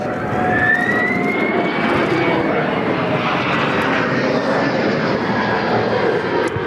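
A KC-30 tanker aircraft arriving at RAAF Williamtown roars loud and steady throughout, a broad jet engine rumble with a rising whine, heard close and alone.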